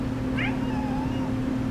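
A cat lets out a single faint, drawn-out meow against a steady low background hum, with no one talking.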